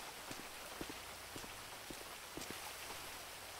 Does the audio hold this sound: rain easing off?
yes